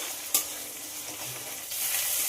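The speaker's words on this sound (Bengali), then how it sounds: "আদা রসুনের যতক্ষণ না কাঁচা গন্ধ যায় ততক্ষণ একটু ভেজে নিতে হবে।" Ginger garlic paste fries with browned onions in a pan, giving a continuous close sizzle with one sharp stirring clack early on. The sizzle grows slightly louder toward the end, and no one speaks.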